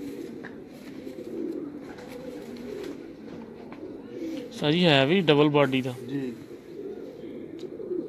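Racing pigeons give one loud, close, rolling coo with wavering pitch, set against ongoing conversation between men both before and after it.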